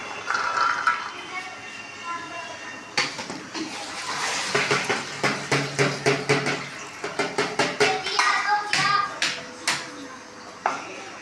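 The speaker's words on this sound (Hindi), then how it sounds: "यहाँ पे हम अपने आलू सारे मिक्स करने लगे हैं, साथ ही हम इसमें डालने लगे हैं चने।" White chickpeas and boiled potatoes being mixed for chaat in a bowl, a string of quick clattering scrapes and taps of a spoon against the dish, getting faster and more rhythmic in the middle.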